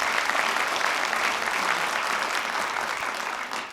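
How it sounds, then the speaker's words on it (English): Dense, sustained applause from a studio audience during a personal finance talk show, loud and even throughout before tapering slightly at the close. "Give her a round of applause."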